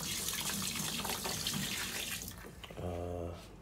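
Water pours steadily into the drum of a Twin Spin XPB36-388S twin tub washing machine, a close, continuous rushing splash that fades near the end as a low hum takes over.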